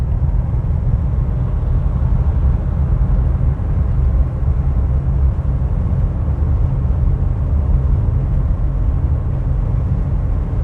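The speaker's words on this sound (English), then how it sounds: "There's a little bit of wind noise going on." A 1959 Vauxhall Velox PA on the road, its engine giving a steady low rumble with a broad wash of wind noise over it, constant and fairly loud from inside the cabin.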